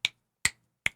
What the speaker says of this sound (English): 3-finger snap.